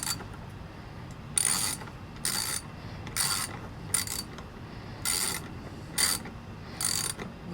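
A clamp on a 17-inch hunting stick build is cranked tight in a steady series of about eight short ratcheting bursts, close and clear, with no talk.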